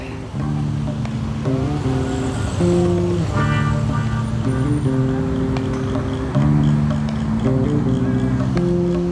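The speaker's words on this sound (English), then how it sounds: "With the roads of Weston-super-Mare in total gridlock" Gridlocked traffic in Weston-super-Mare during a crowded vehicle event, with steady engine hum and shifting tonal drones close by and continuous throughout, under a mix of other background sounds.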